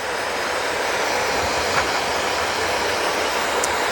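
Dog grooming dryer running on its lowest setting gives a steady broadband whoosh of blowing air, constant and fairly loud, with no voices.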